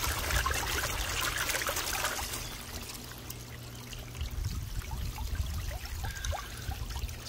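Water trickles and splashes steadily from a homemade rock fountain into its basin, a soft, continuous close-up burble with small droplet patters, heard alone at low volume.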